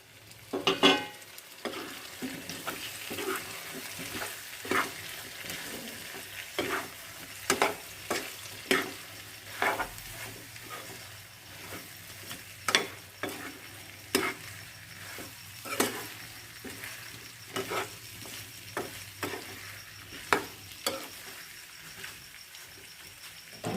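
Potatoes frying in a pan with chicken masala, a spatula stirring and scraping in repeated sharp strokes over a steady close sizzle, with no voices.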